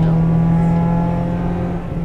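Supercharged Acura Integra Type R engine holding a steady, loud tuner-car drone with a strong low hum, fairly close, easing slightly near the end with no talking.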